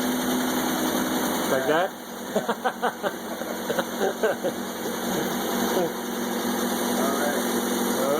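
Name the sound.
car engine idling at first start-up after head gasket change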